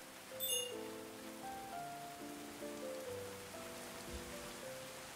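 Rain falling in the medieval colony game Going Medieval: a soft, steady hiss of rainfall beneath gentle musical tones, quiet and continuous with no talk.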